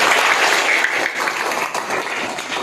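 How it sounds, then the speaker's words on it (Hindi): An audience claps steadily for about three seconds, a dense, fairly loud patter of many hands with no voices over it. "बहुत बढ़िया, ताली मार दीजिए।"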